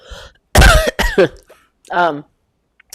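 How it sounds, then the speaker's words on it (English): A couple of short, sharp coughs up close, followed by a brief vocal sound, in an otherwise quiet room. "Sorry, I was coughing."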